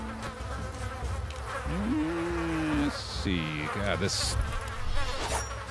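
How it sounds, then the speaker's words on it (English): Flies buzzing in the video game Goblin Stone, a steady droning hum under game sounds while someone talks over it. "flies buzzing in these are still so loud, dude"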